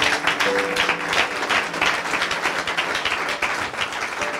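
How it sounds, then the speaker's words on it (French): A crowd in a church gathering applauds and cheers, a dense, loud wash of many hands clapping that carries steadily through the whole stretch. "si tu veux acclamer, acclame bien"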